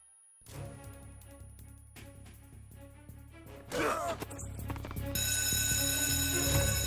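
An alarm blares in the Metal Gear Solid video game, a loud steady electronic tone that rises over the game's music and effects partway through and keeps sounding to the end.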